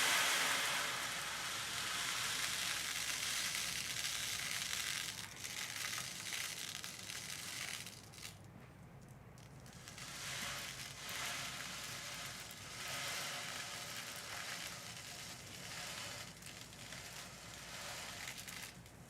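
A handheld rain disc sound tool gives a steady, dense patter like rainfall on a surface, close and continuous with slight swells and one brief dip.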